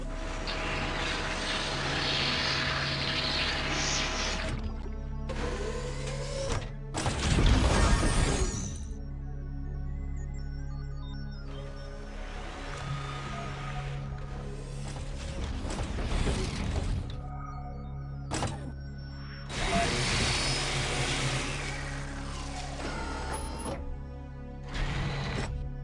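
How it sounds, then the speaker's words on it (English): Harvester robot in the Space Colony strategy game chopping plants with chainsaw arms and vacuuming them up: loud mechanical whirring and grinding in repeated bursts, with sharp buzzing chops and pauses between, no voices. "When a robot gets to a plant, it will chop it to pieces with its chainsaw arms, then vacuum it up"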